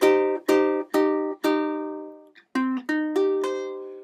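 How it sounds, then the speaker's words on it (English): Plucked ukulele chords in a minor voicing ring out one after another at an even, unhurried pace, each note left to decay before the next. "True minor would sound like this."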